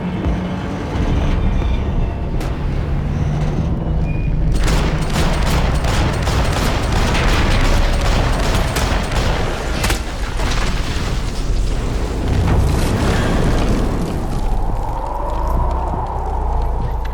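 Loud, sustained exchange of gunfire from a Max Payne 3 firefight, dense bursts and sharp shots layered over booming impacts and rumbling action, continuing for the whole stretch with shouting voices occasionally mixed in.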